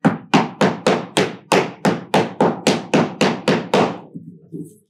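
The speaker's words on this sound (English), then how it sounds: "I can hammer it down and makes it a little easier" Hammer tapping down glued wood segments of a turned vessel resting on a solid surface, thirteen evenly spaced sharp knocks in a steady rhythm, loud and close, ending with a few faint shuffles.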